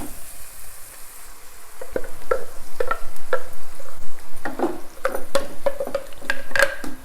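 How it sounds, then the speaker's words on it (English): Onion sizzles and crackles steadily in a hot pan with a little salt, with sharp spattering pops scattered through the sizzle, close and fairly loud, no talking. "onion is frying"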